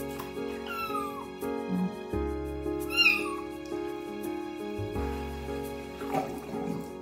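A kitten meows repeatedly while getting its first bath, with high, wavering cries rising over a steady low hum of running water and bathroom background noise.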